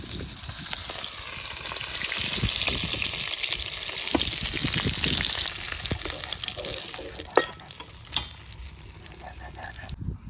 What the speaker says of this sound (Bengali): ইলিশ মাছ তো বেশি ভাজবো না হালকা ভেজে নিয়েছি এবার তুলে নেবো